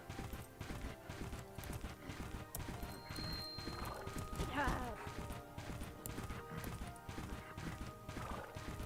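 Hoofbeats of a galloping horse in the Bella Sara video game, a steady clip-clop rhythm with a brief neigh and crashing knocks, set against busy game music and effects.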